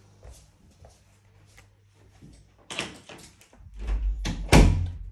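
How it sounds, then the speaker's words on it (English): A bedroom door in a house swings open and shut, with a quiet stretch of faint household noise followed by a couple of close, solid wooden bumps and knocks near the end. "Door open and close is fine with no concerns, no dirt."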